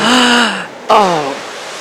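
A diving announcer gasps loudly at a dive during a swim and dive invitational, giving two sharp, breathy vocal gasps in quick succession, close to the microphone with no other sound.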